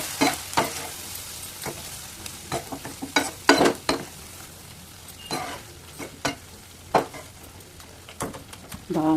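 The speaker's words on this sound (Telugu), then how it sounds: "ఇలా అయితే మొత్తం మ్యాష్ చేయండి." Cooked lentils being mashed and stirred in a pan while making bhel puri, with irregular scraping and tapping strokes over a faint sizzle, close by.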